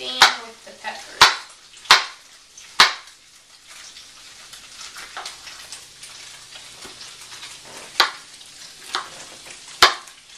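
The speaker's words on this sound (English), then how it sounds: "I'll come over and continue chopping my carrots and peppers" A knife chops carrots and peppers on a cutting board, with sharp, loud, irregular strikes clustered early and a few more later, separated by quieter stretches of faint kitchen noise.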